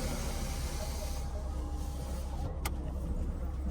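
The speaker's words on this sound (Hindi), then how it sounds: "पहले शीशे ऊपर करने दो।" A car sits amid steady hiss and engine-like rumble at a car wash while its power windows are raised, with a brief sharp click near the end and no speech.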